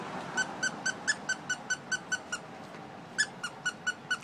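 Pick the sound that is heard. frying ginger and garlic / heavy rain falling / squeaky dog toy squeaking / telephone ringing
squeaky dog toy squeaking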